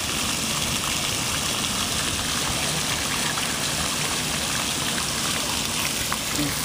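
Water fountains in front of a geology building at night produce a steady, broad rushing splash that holds evenly throughout without pause.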